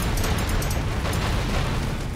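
Dense, rumbling explosions from the video game Broforce roar continuously, a loud wash of booms and crackling bursts with no talking.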